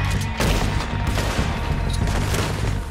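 A volley of gunshots from the video game Red Dead Redemption II, with loud booming reports fired in quick irregular succession over an ongoing background din.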